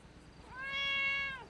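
A single cat meow from a character in a GTA5 roleplay game, a clear rising-and-falling tonal cry lasting about a second, fairly close and alone over faint background hiss.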